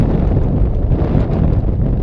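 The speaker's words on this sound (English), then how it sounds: "it's so windy" Loud, continuous wind buffeting the microphone near 5,400 metres on a volcano in Asia, a deep roaring rumble that barely lets up, with no voices.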